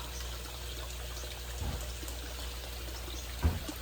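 Water drains steadily from a crayfish pond being emptied to catch juvenile tilapia, a continuous faint trickling rush with a couple of brief low thumps.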